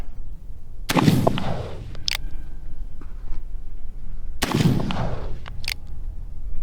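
An Uberti Remington New Model Army revolver fires outdoors at a target 150 yards away: two loud, close reports about three and a half seconds apart, each trailing a rumbling echo, over faint background noise.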